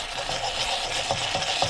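A spoon stirs spiced masala into mashed potatoes for vada pav filling, a soft continuous scraping and squishing with faint rhythmic strokes close by.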